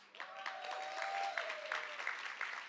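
An audience at a Black History Month celebration applauds, a soft, steady patter of many hands clapping at a distance, quiet and continuous with a faint tonal hum beneath.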